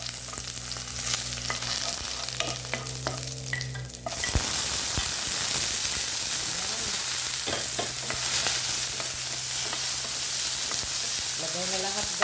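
Bitter gourd (ampalaya) sautéed in a hot pan in a home kitchen: loud, steady frying sizzle with stirring scrapes throughout, jumping louder as the vegetables hit the pan partway through.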